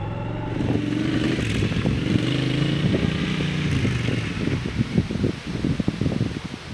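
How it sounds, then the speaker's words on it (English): A motorcycle rides single-track trail through sloppy, muddy woods, with a close engine drone shifting pitch over rough thumps and rattles picked up by an action camera's internal microphone. "My next plan was to ride some single track through the woods."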